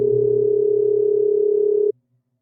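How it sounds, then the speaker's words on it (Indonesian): A telephone call fails to connect, giving a steady electronic tone that holds for about two seconds and then cuts off abruptly, followed by silence. "Coba telepon aja dah, siapa tahu udah bisa dihubungi."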